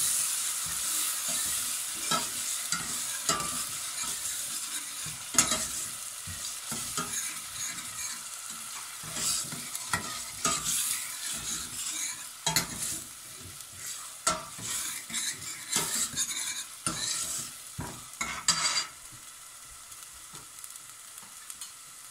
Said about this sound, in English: then we're going to add a green chili and garlic and ginger paste.